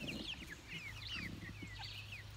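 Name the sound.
chickens clucking while eating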